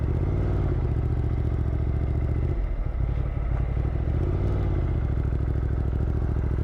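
Ducati Multistrada motorcycle engine revs hard and close, a dense steady roar with a brief dip in pitch midway before climbing back up, continuous with no talk.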